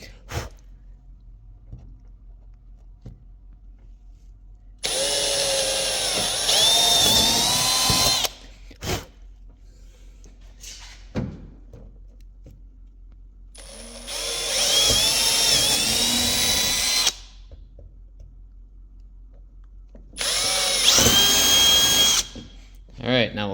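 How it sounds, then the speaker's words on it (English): A power drill whines loudly in three sustained bursts while boring pilot holes in a car's factory trunk lid for a carbon fiber wing, close up, with quiet pauses between and brief talk. "Oh boy. And drill once."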